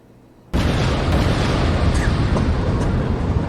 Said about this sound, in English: Now we have to insert another bomb explosion.